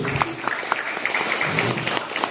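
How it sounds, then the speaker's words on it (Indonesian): Applause for a hospital emergency team rises from an audience at an Islamic preaching event, a dense, steady patter of many hands clapping close by with no voices over it. "Aplaus untuk"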